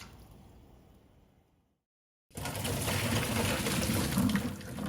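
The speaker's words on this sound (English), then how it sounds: "just to get off a bit of the brine taste, we're going to do a quick boil" Water rushes and bubbles loudly after a brief silence, as young jackfruit is dropped into a pot for a quick boil, a close, steady churning liquid sound.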